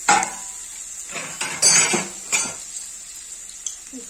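Ginger garlic paste stirred in a pan with a metal spoon, scraping and clinking against the pan in a few short bursts with a faint sizzle beneath, close and fairly loud, then quieter toward the end.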